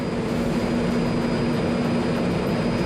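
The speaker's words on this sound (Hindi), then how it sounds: "वायुसेना के विमानों ने एडिनबर्ग के ऊपर से फ्लाई पास्ट निकाला" RAF aircraft fly past in formation low over Edinburgh during a ceremonial flypast, a steady, loud roar of engines that fills the whole stretch without fading, with no voices.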